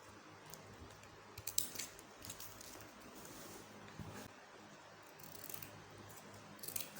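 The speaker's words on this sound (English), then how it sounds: "You can see the way I'm cutting it." Scissors snipping a strip of sinamay fabric for a fascinator base, faint close crisp cuts scattered irregularly over a quiet background.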